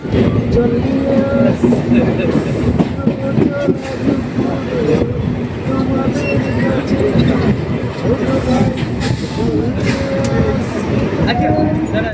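A local train in West Bengal runs between Palta and Barrackpore stations, its steady rumble and rattle filling the whole stretch, loud and continuous, with no voices showing above it.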